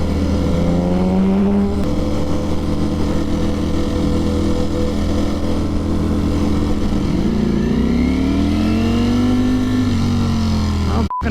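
A stock Stealth Black BMW S1000 Street Fighter motorcycle engine revs steadily through a lap, its pitch climbing and falling in smooth sweeps, loud and close the whole way, and it ends abruptly.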